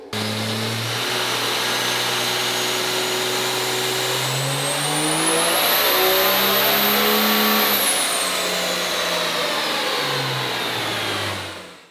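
A 2006 truck with a 476 setup on a dyno, engine roaring loud and steady for the whole stretch, pitch climbing and holding high near the middle before easing back down, with a whine rising over the top.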